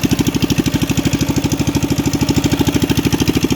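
A Coleman CT200U minibike's 196cc, 6.5 horsepower engine runs steadily just after starting, a loud, close, rapid chugging idle with an even throbbing pulse and no voices.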